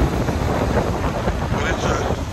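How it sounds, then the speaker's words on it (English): Strong wind buffets across Kehaha Kai State Beach, a loud continuous roar with gusty rumble close to the microphone. "wind is blowing."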